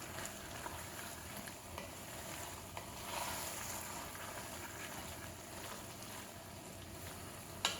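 Red curry paste sizzles and fries steadily in a hot pan on medium-high heat, a continuous soft crackle with faint scraping from stirring, no talk over it.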